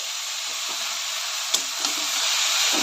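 Papaya pieces fry in a pan with salt and turmeric, giving a steady, close broadband sizzle and hiss throughout, with a couple of faint clinks from stirring and no talk.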